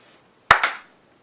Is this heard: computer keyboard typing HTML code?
no